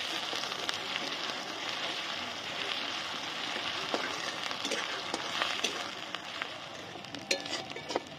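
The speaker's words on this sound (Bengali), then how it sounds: "পেঁয়াজটা আমি লাল করে ভেজে নিব।" Onions fry in a pan until reddish-brown, giving a steady, quiet sizzle with faint crackles and occasional stirring scrapes, alone without talk.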